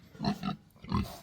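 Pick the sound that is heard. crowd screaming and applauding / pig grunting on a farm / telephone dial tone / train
pig grunting on a farm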